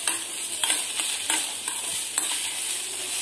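Bread slices frying in a little oil on a pan for bread toast, with a continuous bright sizzle and a few soft spatula scrapes and taps at intervals, close by and steady, without speech.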